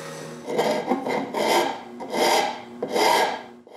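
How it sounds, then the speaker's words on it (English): A hand rasp files glued-on tabs off a wooden dog treat bowl on a workbench, heard as four or five steady, rough scraping strokes in an even back-and-forth rhythm, close and clear with no voices. "use a rasp to remove the tabs"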